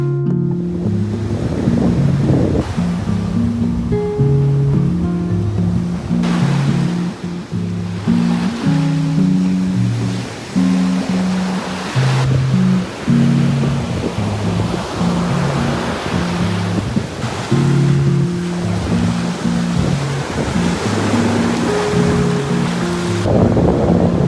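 Ocean waves roll onto a white sand beach in a steady, continuous wash of surf, with wind noise buffeting the microphone throughout and no voices.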